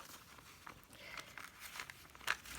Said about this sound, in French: Et du coup, je les déchire comme ça.